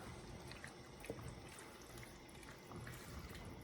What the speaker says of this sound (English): And then pour it into the sauce.